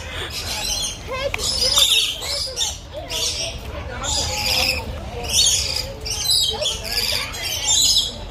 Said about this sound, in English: The chirping's hurting your ears?